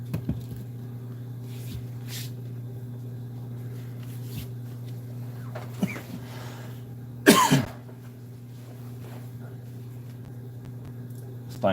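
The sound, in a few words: coughing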